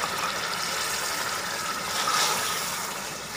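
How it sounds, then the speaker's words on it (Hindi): Water pours steadily into a cooking pot holding chicken and white lobia beans, a continuous close splashing gush with no talk. "अब इसमें थोड़ा सा पानी लगाना है।"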